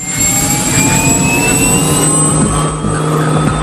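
A helicopter engine gives a loud, steady jet-like turbine whine with a constant high tone over a deep rumbling roar, holding throughout without a break, during aerial construction work.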